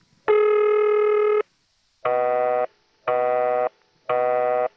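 A St. Thomas ringing machine in a step-by-step telephone exchange, recorded in 1976, sounds a steady buzzing ring signal: one long burst, then three shorter bursts in an even cadence, clear and alone.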